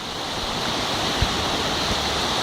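Floodwater from a flash flood rushes through a village in Latawan, Basilan, a steady, dense roar of churning water that fills the whole stretch, with a couple of brief low thumps and no voices.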